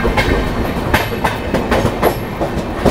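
A train, the August Kranti Rajdhani, arrives at Bharuch Junction railway station after crossing the Narmada, its wheels giving a steady, loud clickety-clack rhythm heard from on board.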